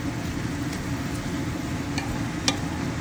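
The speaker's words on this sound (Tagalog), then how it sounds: "Halo-haloin lang hanggat sa mag-crunchy ang broccoli." Broccoli stir-frying with ground beef and black pepper in a pan, a steady low sizzle throughout with a few light clinks of a utensil against the pan, no talking.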